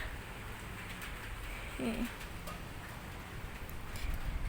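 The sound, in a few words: rain falling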